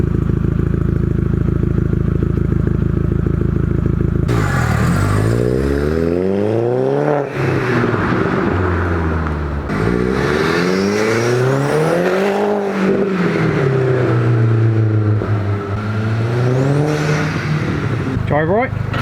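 A Cupra car engine warming up, holding a steady idle and then rising and falling through several revving blips, loud and close throughout.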